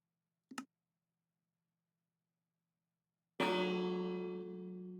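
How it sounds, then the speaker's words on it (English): A Minecraft bell rings once, clear and near, after a short click, its metallic tone holding and slowly fading in an otherwise silent game. "So we should get a bell audio cue at least."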